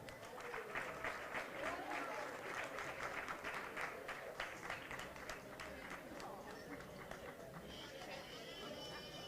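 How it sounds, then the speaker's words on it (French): Sustained crowd applause for three winning women runners at a Meyrin 10 km road race, dense steady clapping that fills the whole stretch, with voices and chatter mixed in. "Et les applaudissements nourris pour ces trois championnes"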